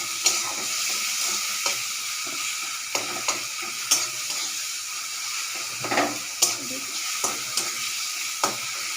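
Spices sizzle steadily in a hot pan while a spoon stirs them, making sharp scraping clicks at irregular intervals over the constant frying hiss.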